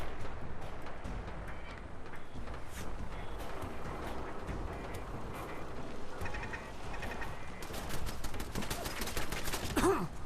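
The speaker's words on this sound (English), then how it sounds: "something's shooting me from above" Faint, distant gunfire in Fallout 4, scattered shots and brief volleys buried in a steady wash of ambient wasteland noise, growing slightly busier toward the end.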